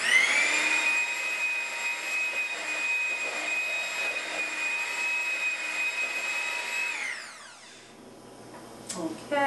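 An electric mixer whirs steadily as it blends milk paint powder with water for walls, a loud high-pitched motor whine holding constant, then spinning down and stopping near the end.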